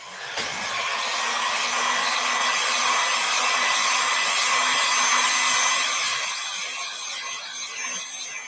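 A heat tool dries paint on a piece of artwork, a loud, steady blowing whir that holds for several seconds and then eases slightly, close up with no talk.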